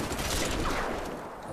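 Sniper rifle fire in the Crysis 3 multiplayer beta: a dense burst of gunfire and mechanical clatter fills the short moment, loud and continuous, with no clear gap between reports.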